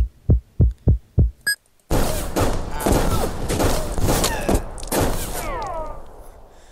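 Rapid burst of gunfire from a six-bullet weapon in a hard computer game, fired as fast as possible after a countdown; five sharp evenly spaced shots open the clip, followed by dense continuous game noise and effects.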